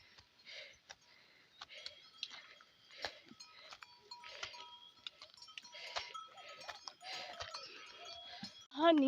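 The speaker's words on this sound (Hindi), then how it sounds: "दो बैल आगे जा रहे हैं, एक भेड़ जा रही है और एक बकरी जा रही है" Goat, sheep and pair of oxen walking past on a mountain farm path among pine forest, with a cowbell clinking irregularly, soft hoof steps and rustling, and a close bleat near the end.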